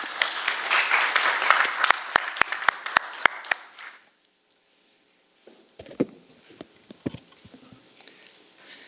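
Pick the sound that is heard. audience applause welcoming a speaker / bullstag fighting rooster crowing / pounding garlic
audience applause welcoming a speaker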